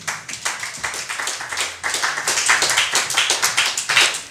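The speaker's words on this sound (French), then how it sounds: "Est-ce que tu peux acclamer le Seigneur?" A church congregation at a French-language sermon clapping together in steady rhythmic applause to acclaim the Lord, many hands close and lively, with no voices.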